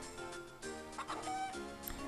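Short burst of clucking from chickens in the video game Zelda: The Minish Cap, a few quick chirpy game-style bird calls over soft background music.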